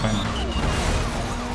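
A car in the video game Need for Speed: Most Wanted smashes through trash, giving a loud, continuous jumble of crashing and clattering impacts without any talk.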